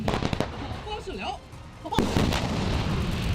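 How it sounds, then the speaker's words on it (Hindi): Artillery guns aimed toward China fire heavily during a military exercise: a sharp, loud boom is followed by a sustained rumbling roar, with speech mixed in early on. "चीन की तरफ मुंह करके रखी गई तोपों से भी ताबड़तोड़ गोलाबारी की गई।"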